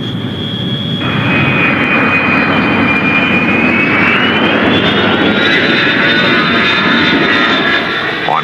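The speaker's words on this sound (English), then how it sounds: "A reliable jet fighter checked out with military precision every time it left the ground." A CF-100 jet fighter's engines roar steadily and loudly at close range with a high whine that rises in pitch midway, sustained throughout with no voices.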